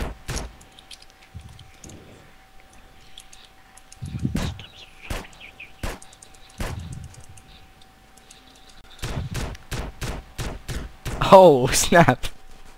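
Gunshots in the online game SA-MP: a rapid cluster of sharp cracks arriving in quick succession near the end, after a few scattered isolated pops, with a voice speaking briefly between them.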